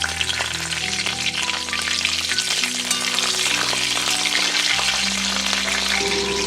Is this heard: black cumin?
yes